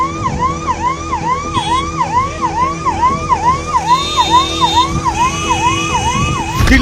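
An ambulance siren wails loudly and continuously in a rising-falling cycle, stuck in a traffic jam on a rain-flooded busy road in Delhi, with other siren tones joining near the end.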